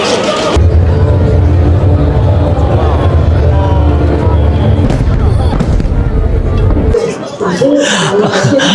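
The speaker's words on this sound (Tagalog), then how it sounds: "Ayan ang paputok na yata." Fireworks rumbling and booming outdoors at the 2024 Busan Fireworks Festival beneath loud crowd chatter, with a person talking nearby.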